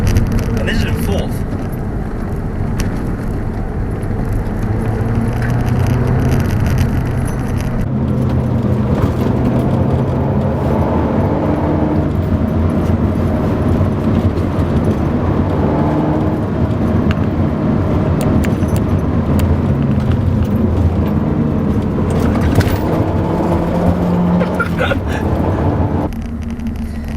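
A Mazda 3 MPS pulls hard in fourth gear, its engine a steady, loud drone of low harmonics heard from inside the cabin for the whole stretch.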